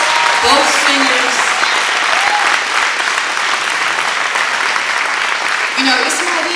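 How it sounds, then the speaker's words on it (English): An audience applauds children performers, dancers and singers, at a Long Beach Dr. Martin Luther King Center event: loud, steady clapping from a sizable crowd sustained throughout, with a few faint voices mixed in. "ask you all to give another round of applause for our children who were so beautiful"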